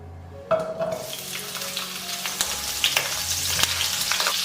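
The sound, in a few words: ginger, scallion and garlic sizzling in hot oil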